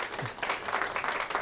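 Steady congregation applause, a dense wash of many hands clapping at moderate distance, continuing without a break.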